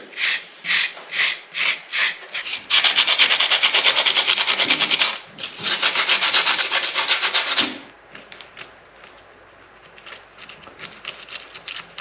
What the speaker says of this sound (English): I worked on the outsides with a wire brush, a small screwdriver,